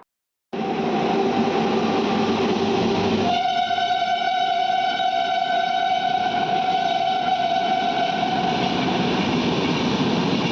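A train at a railway station rolls by loudly and steadily, with a sustained horn-like tonal drone entering partway and holding over the broad rumble of wheels and cars.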